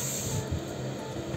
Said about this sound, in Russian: потом покрываем вот таким матовым лаком